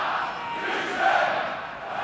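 A large football stadium crowd roars and chants for the home team in a southern Danish league match, a sustained distant wall of voices swelling slightly midway.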